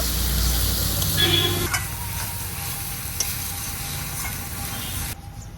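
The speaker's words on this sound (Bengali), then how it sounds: "এখন দেবো আমি আদা রসুন আর কাঁচা লঙ্কা বাটা। এটাও আরো 2 মিনিট কষিয়ে নেব।" Ginger, garlic and green chili paste sizzles in a pan over onions for a cauliflower roast, a steady crackling fry with scraping stirs, then the sizzle drops sharply near the end.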